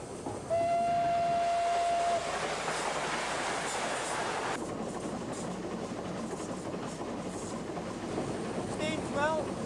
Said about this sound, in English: 957 Lancashire Yorkshire engine, one of the oldest on the railway